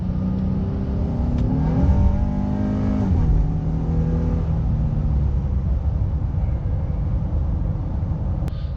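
A steady engine drone and road rumble fill the whole clip as a 2019 Honda Ridgeline AWD pickup drives along a curving, hilly country road, its engine pitch shifting early on, with no talking.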